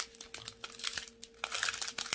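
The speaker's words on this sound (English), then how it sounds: "Apologize for the crinkle." Plastic packaging crinkles in close, irregular bursts of crackling as an unboxed set is handled and flipped over. The sound is fairly quiet, with no talking.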